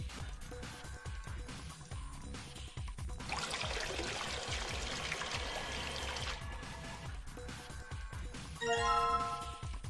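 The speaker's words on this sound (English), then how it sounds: "So now we have a water-filled container." Water poured into a storage container in Zero Escape: Virtue's Last Reward, a steady splashing stream lasting a few seconds, followed by light chiming tones, all fairly quiet.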